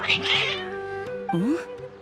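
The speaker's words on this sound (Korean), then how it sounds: "고양이들이 갑자기 평소에는 온순했던 걸로 기억하는데" Cats meow in a video game set in the Sumeru region. A few clear, close meows rise and bend in pitch, one stretching into a drawn-out caterwaul, over soft background game audio.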